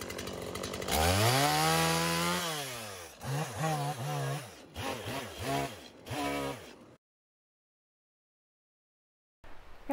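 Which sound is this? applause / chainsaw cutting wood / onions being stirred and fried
chainsaw cutting wood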